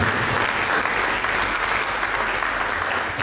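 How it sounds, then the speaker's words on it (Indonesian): A congregation applauds during a church service, dense, steady clapping from many hands filling the room at an even level throughout. "Mari kita berikan tepuk tangan."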